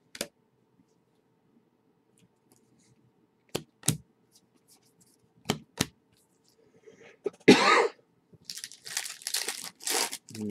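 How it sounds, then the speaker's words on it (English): A single person coughs several times in sharp, isolated bursts spaced a couple of seconds apart in a quiet room, followed by crinkling and rustling of card packs handled close by. "My cough's going to be annoying."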